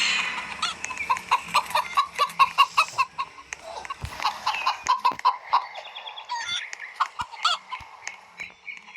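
Chicken clucking from a golden chicken in the Roblox video game, a rapid run of loud, close clucks and squawks in bursts over several seconds, with no one talking over it.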